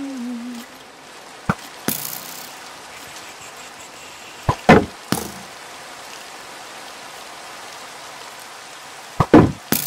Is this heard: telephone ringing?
no